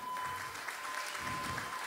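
Audience applause greets a bass player being introduced at a blues band concert, a steady, dense wash of clapping from a sizeable crowd that holds evenly throughout with a faint tone underneath.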